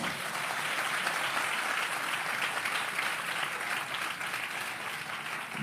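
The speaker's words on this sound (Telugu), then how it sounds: "కొట్టండి చప్పట్లో" An audience applauds: a steady, dense wash of clapping that holds evenly for several seconds.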